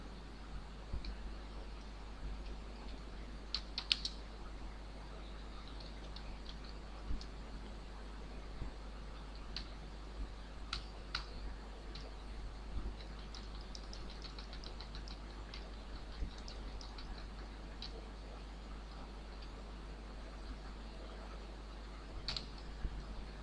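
Light, scattered keystrokes on a computer keyboard while a narration is typed into accounting software, quiet irregular clicks over a steady low hum with no voice.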